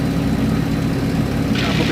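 A light aircraft's piston engine runs steadily on the return to the airfield with its cooling flaps open, a constant loud drone with a brief brighter hiss near the end and no talk.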